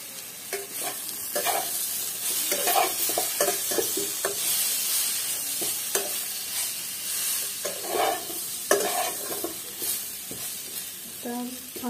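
Green chillies and spices, Kashmiri chilli among them, fry in a pan with a steady sizzle while a spatula stirs and scrapes in repeated strokes, close and fairly loud, with no voices.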